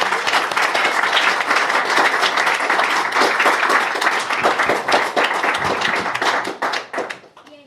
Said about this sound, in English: Can we have a round of applause, please, for the British Interplanetary Society?